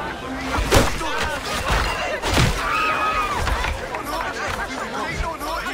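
Crowd chatter and scattered thuds come from a tavern in Assassin's Creed IV Black Flag, a steady babble of voices with a few heavy knocks.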